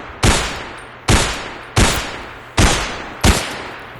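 Five sharp rifle shots from an M1 Garand in a Minecraft Bedrock gun mod, evenly spaced about a second apart, each a loud crack with a short decaying tail and no talk.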